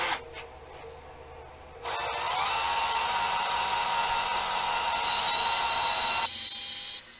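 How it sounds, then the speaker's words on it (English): Power drill boring into a knife workpiece, played back sped up, gives a sustained high whirring grind that starts after a short pause and runs steadily before cutting off. "I know on fast forward it sounds like this drill's turning really fast,"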